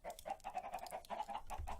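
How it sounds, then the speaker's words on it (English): Chickens in the video game Minecraft cluck in a quick, steady run of short, close calls with nothing else around them. "listen to the chickens"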